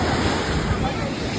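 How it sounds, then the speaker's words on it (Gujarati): Sea waves rolling onto the shore near Somnath, a loud, continuous surf wash with wind buffeting the microphone, heard alone without speech. "આવી ગયા છીએ આપણે મસ્ત મજાના સમુદ્રના કિનારે"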